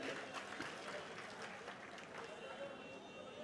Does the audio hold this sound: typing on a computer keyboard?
no